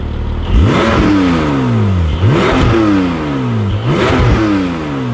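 A Porsche 718 Spyder engine revs hard three times with its exhaust valves closed, each burst climbing then falling away, loud and close with a deep throaty exhaust note.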